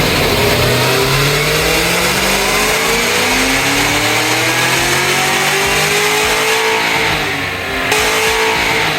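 A Cadillac CT5-V Blackwing engine revs hard on a dyno during tuning, its loud sustained roar sweeping upward through rising harmonics with no talk over it, easing briefly near the end.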